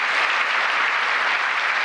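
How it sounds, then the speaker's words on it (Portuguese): An audience at a Brazilian presidential signing ceremony for a full-time school program applauds educators, with dense, loud clapping that stays continuous and even from start to finish. "pedir uma salva de palmas"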